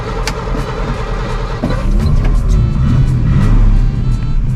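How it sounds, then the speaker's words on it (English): A 1954 Wolseley 6/80 straight-six cranks and catches, settling into a steady close idle with occasional small revs, no voices. "So, old Wolseley, let's go. Ignition, start."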